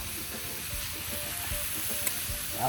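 Prawns tossed into a hot pan for a stuffed Bombay duck fry recipe, giving a steady, close sizzle and fry with scraping stirs throughout and a sharp spitting burst near the end.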